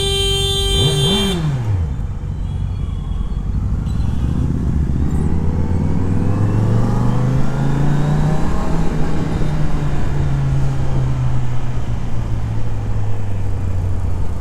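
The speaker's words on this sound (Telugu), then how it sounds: "ఏరోప్లేన్ సౌండ్ వస్తుంది గైస్ నా బండి అయితే" Kawasaki Z900 motorcycle engine, loud and close, sweeping up through the revs with a whining, rising tone and then holding a steady high drone, over constant wind and road rush.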